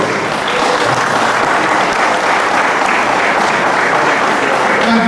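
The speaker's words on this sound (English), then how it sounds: "they deserve a round of applause" A school graduation audience in Dominica bursts into loud, sustained applause, a dense wash of clapping hands that holds steady from start to finish.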